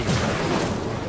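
A short, soft whooshing burst of an Incendio fire spell being cast in Hogwarts Legacy, one brief rush of noise with no talk.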